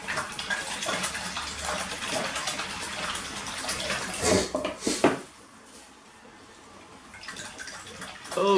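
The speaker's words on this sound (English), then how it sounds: "I'm going to clean the brush" A paintbrush is rinsed in a water jar while painting waves in oil or acrylic, giving close sloshing and splashing with light clinks against the container, then a brief clatter before the sound drops to quiet room tone.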